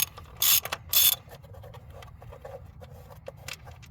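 Coil packs being pulled by hand from the top of a 2004 Honda engine after the 10mm bolts come out, giving two loud short scraping clicks and rattles near the start, then quieter small mechanical clicks and shuffles.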